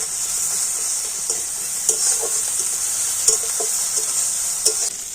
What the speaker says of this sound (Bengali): রসুন পেঁয়াজ আর কাঁচা লঙ্কাটা একটু ভেজে নিয়েছি